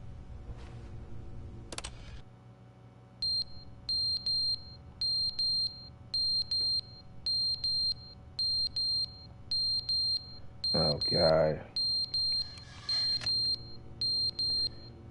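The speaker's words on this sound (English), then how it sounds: "Now they're gonna do the annoying beeping." Annoying, repeated electronic beeping in the video game The Stanley Parable plays in regular, evenly spaced pulses. It is loud and steady, and a man briefly exclaims over it.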